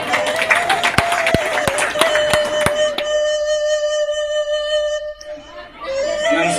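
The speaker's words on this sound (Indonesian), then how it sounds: "Aplaus buat kita semua." An audience at a Minang community halal bihalal gathering in Pontianak claps in a burst of applause with sharp individual claps, fading after a few seconds while a steady musical tone and murmuring chatter continue.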